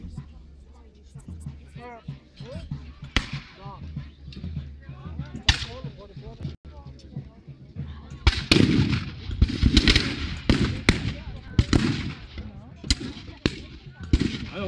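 A series of sharp musket shots ring out at a historical reenactment bivouac, scattered and overlapping like ragged volley fire, with voices talking and shouting in French in between.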